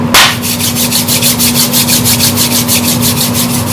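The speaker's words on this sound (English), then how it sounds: "Got the AMS hand rub going." An AMS hand rub runs up close and loud, making a fast, even train of rhythmic scraping strokes, about four per second, that continue without a break.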